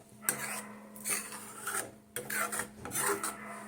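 A spoon repeatedly scrapes and rasps against the bottom of a pot while thickening payesh, Bengali rice pudding with cashews and raisins, in a series of close, rhythmic stirring strokes.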